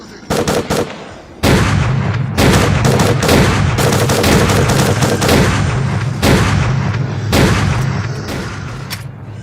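Close, loud bursts of automatic gunfire in S.T.A.L.K.E.R.: Clear Sky as mutant Snorks are shot down, arriving in rapid volleys with short gaps, then a nearly unbroken stretch of shooting that tapers slightly at the end.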